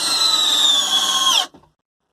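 A Bosch cordless drill driver drives a screw into wood, a steady high-pitched motor whine that holds for about a second and a half and then cuts off abruptly, followed by a brief faint tail and silence.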